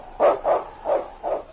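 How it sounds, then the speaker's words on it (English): Lead sled dog barking on an old-time radio adventure drama: four clear, evenly spaced barks, loud and close, with no voices over them. "It's Yukon King, swiftest and strongest lead dog of the Northwest"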